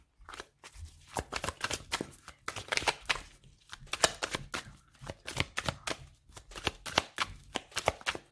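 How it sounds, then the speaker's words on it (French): Tarot cards are cut and shuffled by hand in a run of quick, crisp riffles and soft flicks, close up and fairly quiet, with short pauses between bursts and no voice. "une coupe pour le Capricorne pour le mois de mai"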